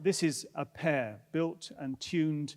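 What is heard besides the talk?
No everyday noise stands out behind the speech.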